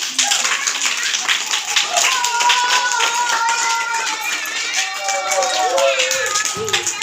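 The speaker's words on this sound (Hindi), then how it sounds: "आउ सारे ताली उठाई जाओ।" Children clapping in a classroom during a shapes lesson, quick scattered hand taps running throughout, mixed with lively young voices chanting and talking over them at close range.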